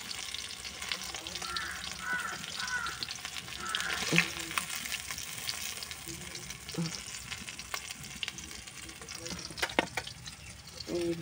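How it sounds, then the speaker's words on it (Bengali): Fish fries in oil in a pan, giving a continuous soft crackling sizzle with occasional sharper pops and clinks of a utensil, and some brief quiet voice nearby. "কত সুন্দর করে ভাজা হচ্ছে দেখো"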